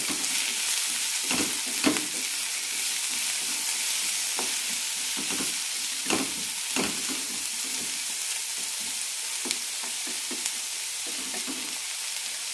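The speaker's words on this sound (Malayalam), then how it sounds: "കുമ്പളങ്ങ പകുതി വേകുന്നതുവരെ വഴറ്റിയെടുക്കാം" Pieces of ash gourd sauté in a pan for chutney, with a continuous close sizzle and hiss and repeated spatula scrapes at an uneven rhythm, loud and alone without voices.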